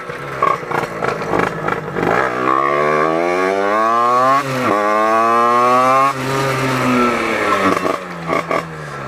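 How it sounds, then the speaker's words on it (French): A loud, close motorcycle engine, recorded on a BOYA BY-LM20 microphone, revs, its pitch climbing and dipping several times before settling into a steady, rough idle. "ma moto elle fait du bruit"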